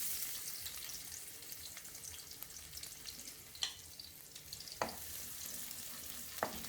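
Onions frying in a few spoons of oil over a high flame for a non-vegetarian dish, a continuous sizzle broken by several sharp stirring scrapes.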